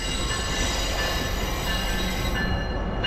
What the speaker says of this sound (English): here we're just waiting for the White Pass train to pass away